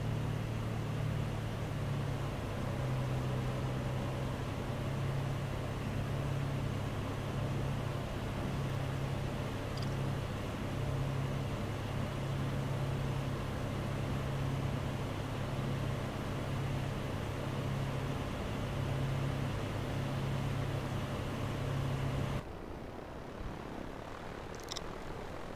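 Steady drone of an aircraft engine in the Prepar3D v5.3 flight simulator, a light plane descending toward the airport near Albuquerque, holding a constant low hum before dropping off abruptly near the end.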